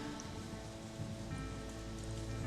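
Steady pelting rain in the video game Shadowrun: Hong Kong, a constant even patter on surfaces, close and moderately loud throughout, with no talking.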